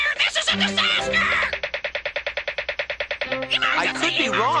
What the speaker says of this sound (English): I think he's upsetting the chickens, Ollie.